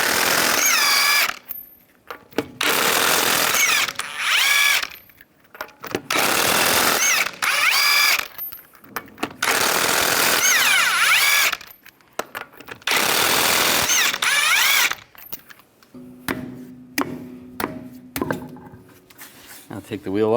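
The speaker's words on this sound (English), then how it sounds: "use a 19mm socket," An impact-style power tool with a 19mm socket spins lug nuts off a 2011-2019 Ford Explorer wheel, firing several loud, rattling bursts of a few seconds each, separated by short quiet gaps.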